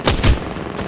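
Gunfire in the video game Apex Legends: two rapid, loud close bursts of shots within under a second, trailing into a sustained noisy wash.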